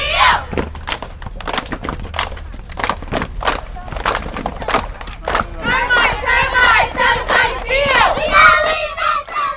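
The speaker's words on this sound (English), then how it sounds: "let's get to the cheering." Excited shouting and whooping from a group fills the air, with sharp claps and thumps early on, then overlapping high cheering voices building louder toward the end, close and energetic.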